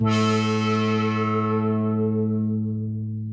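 A single sustained synthesizer note on a monosynth patch, bright at first, its upper harmonics slowly fading as a filter closes over about three seconds.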